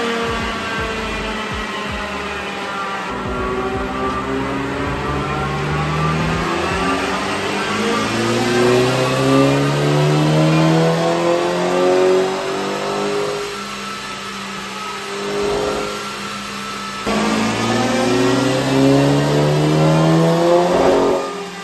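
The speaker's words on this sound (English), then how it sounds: "hopefully we're going to get some absolutely insane dyno runs and see what it's making" A Stage 2 Volkswagen Golf GTI on a dyno, its engine revving in repeated long pulls with pitch climbing and falling, loud and sustained close by.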